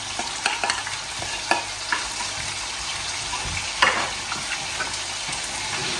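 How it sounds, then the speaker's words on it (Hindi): Mutton pieces frying in a karahi, a dense continuous sizzle with sharp crackles and the scrape of a spoon stirring the meat, close and fairly loud with no talking. "अब इसको हम फ्राई करेंगे जब तक कि इसका कलर जो है गोश्त का चेंज हो जाए"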